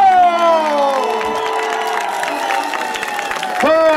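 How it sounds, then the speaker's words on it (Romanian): A crowd cheers and whoops for a performer being welcomed on stage, a loud sustained roar of voices with shouting layered over it, swelling again near the end. "vine să-l aplaudăm pe Nicolae Furduianco"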